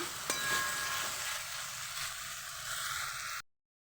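Fried potatoes stirred through a ground spice paste in a pan: steady broadband sizzling with scraping spoon strokes, close and fairly loud, alone, cutting off abruptly before the end.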